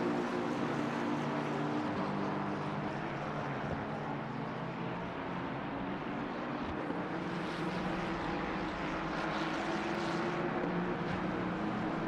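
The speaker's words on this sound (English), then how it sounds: "You hear the syncing up of the two Aston Martins there in their rev range" Two Aston Martin race car engines in a racing video game drone steadily in their rev range, a continuous layered engine tone held at an even loudness throughout with slight shifts as the pitches line up.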